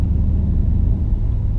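A Mercedes-Benz ML550 V8 rumbles steadily while cruising, a deep continuous low drone that stays even and close throughout, with no voices.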